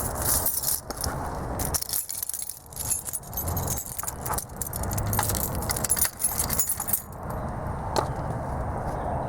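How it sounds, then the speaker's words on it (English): A bunch of keys jangles and clinks close up as a key goes into a tractor's ignition, with bursts of metallic rattling over several seconds. "Of course, it's going to help if you put the key in it"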